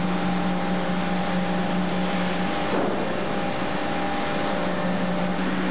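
A rail flash welding plant preheating a rail in consecutive phases gives off a steady loud electrical hum with sustained tonal drones and a brief crackling burst midway, continuous and close.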